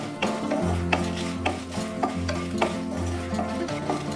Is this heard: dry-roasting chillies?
yes